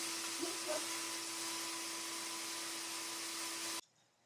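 A Melasty milking machine pump drones loudly and continuously with a constant hum, then cuts off abruptly near the end, leaving near silence.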